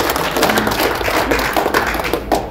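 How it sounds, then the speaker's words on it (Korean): A crowd claps in a burst of applause for a candidate's respected parents at a by-election campaign office opening in Cheongju, the dense clatter sustained and fairly loud throughout. "저 우리 조부재 부모님께 박수 한번 부탁드리겠습니다"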